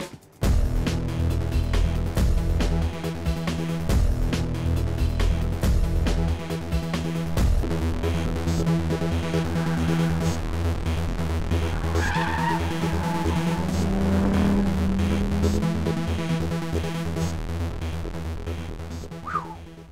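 A 2012 Audi TT RS brakes downhill, downshifts and accelerates through a sharp left-then-right set of corners. Loud engine notes rise and fall with gear changes, and tires squeal and skid through the bends.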